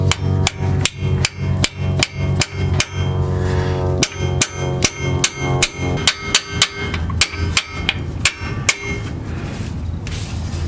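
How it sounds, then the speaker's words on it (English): Freeze plug hammered dry into a GM 4.3 V6 engine block: a long run of sharp, loud metallic strikes in quick regular rhythm, each ringing briefly, with a short pause midway before the blows resume. "just hit it with a hammer to drive it in"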